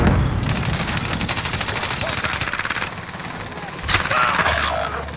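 Rapid automatic gunfire in the battle royale game Warzone Rebirth, a loud sustained burst of shots with a sharp crack near the end, under excited voice chat.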